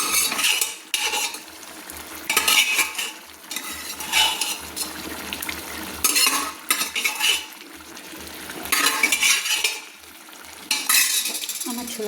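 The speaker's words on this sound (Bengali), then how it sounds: "আমি এবার সুন্দর করে নেড়ে নিচ্ছি" A spoon stirs cooked chana dal in a pan, sending repeated bursts of wet scraping and clinking in uneven strokes, close and fairly loud, with quieter gaps in between.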